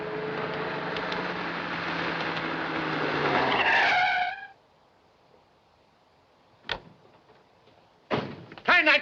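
Car driving away in a 1940 film scene: an engine revs and climbs in pitch for several seconds before cutting off abruptly, followed by near silence and a few sharp knocks.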